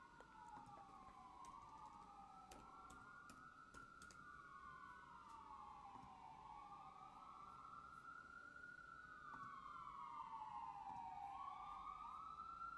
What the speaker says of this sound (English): Just gonna wait for the siren to pass.